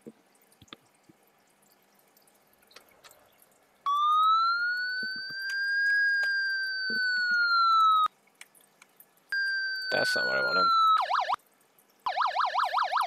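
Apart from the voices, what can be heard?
emergency vehicle siren tones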